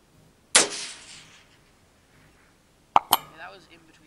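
A .22 Magnum shot from a TC Contender pistol at a long-range outdoor range, heard as one sharp crack with a fading tail, then a second quick pair of snaps a couple of seconds later, followed by faint voices.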